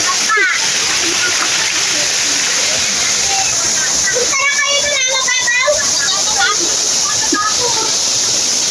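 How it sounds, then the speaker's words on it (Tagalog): A waterfall near a beach rushes as a constant loud roar of falling water, with people talking over it and children's voices now and then. "Ayan yung waterfalls na nga"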